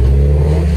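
A Mitsubishi Evo engine at a car meet, running loud and close with a steady low rumble and a slight revving swell, and no talk over it.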